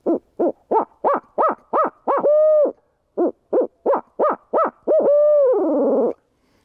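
A Harrison Hooter owl call imitates the barred owl's laughing call. Two loud, close runs of rapid rhythmic hoots each end in a drawn-out descending wail, with silence between them.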